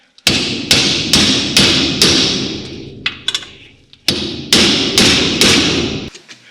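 A hammer strikes metal, tapping out a car ball joint on a Skoda Felicia or Volkswagen Caddy, in a series of sharp, loud taps with ringing decays, about a dozen blows at a steady pace with a short pause midway.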